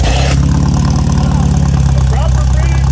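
A 1970s-style MGB GT with an upgraded exhaust rumbles loudly up close, its deep engine note pulsing and rising in a brief rev while people talk over it.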